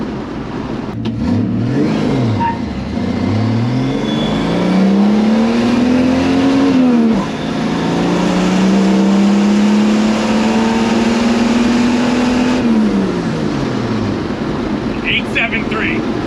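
A turbocharged six-cylinder car accelerates hard with the clutch slipped, its loud engine note climbing steadily, dipping at a shift, then rising again before easing off, with a voice talking over it.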